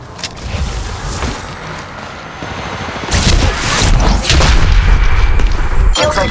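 Repeated heavy shotgun blasts from the Auto Mastiff in the mobile shooter Apex Legends Mobile, loud and close, growing denser midway through with a sharp final burst.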